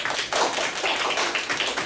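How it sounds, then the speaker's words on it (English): An audience at a real-estate talk claps in a steady, dense round of applause, close and fairly loud, with no speech over it. "Let's give her a round of applause"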